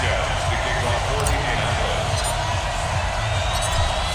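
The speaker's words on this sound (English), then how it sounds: "the Patriots, introduced to this, as always, sold-out crowd" Sold-out stadium crowd roaring steadily throughout, a dense unbroken wall of cheering at a Madden 20 Colts at Patriots game in Foxborough, loud and constant with no break.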